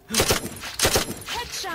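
Video game gunfire in a shooter: two quick bursts of close, punchy shots, each a pair of rapid cracks, then lighter clicks and a faint synthetic effect at the end, with a voice talking over part of it.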